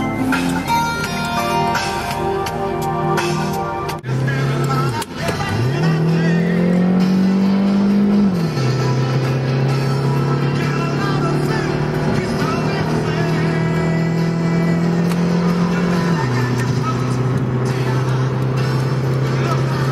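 A 1992 Geo Storm mini wagon's engine runs steadily and close by, its drone briefly dipping and then settling into a smooth idle with small shifts in pitch, alone without talk.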